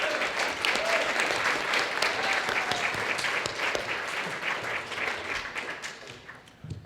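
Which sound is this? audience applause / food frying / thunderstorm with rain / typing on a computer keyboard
audience applause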